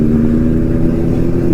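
A Kawasaki Ninja ZX10R superbike's inline-four engine revs close by on the road, a loud, steady, throaty drone holding without a break.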